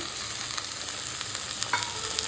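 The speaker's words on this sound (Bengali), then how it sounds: "এবার এর মধ্যে আমি আগে থেকে পেস্ট করা টমেটো, আদা, রসুনটা দিয়ে দিলাম।" Tomato, ginger and garlic paste frying with onions for chana masala, giving a steady close broadband sizzle with occasional faint scrapes and pops, no voices.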